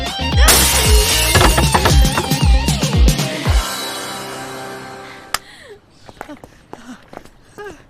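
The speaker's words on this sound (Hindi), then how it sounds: "वो कुर्सी फेंक के कांच भी तोड़ दीजिए" Glass shattering as a thrown chair crashes into it: a loud burst of breaking and tinkling shards with heavy thumps for about three seconds, fading into scattered debris and quieter movement.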